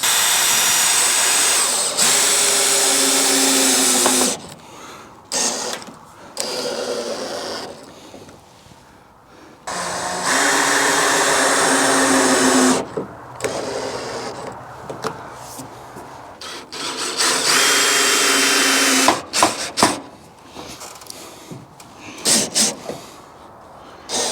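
A power drill whirs in repeated bursts, driving screws into gable trim on a chicken coop outdoors, with high whining spins, pauses and handling clatter between runs.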